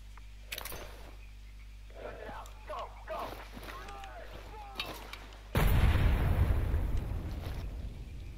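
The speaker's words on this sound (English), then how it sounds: "Is there someone shooting at me?" Gunfire from an enemy shooter in S.T.A.L.K.E.R. Anomaly: sparse sharp cracks under a voice early on, then a loud sustained broadband burst of shooting from about five and a half seconds onward.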